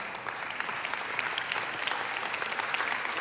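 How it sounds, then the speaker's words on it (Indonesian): A church congregation claps together in sustained applause, many hands making a dense, even patter in a large indoor space, with no speech over it. "Ini kurang rajin tepuk tangan, kurang antusias tepuk tangannya."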